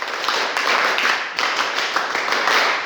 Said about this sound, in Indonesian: Kasih aplaus untuk Gunawan.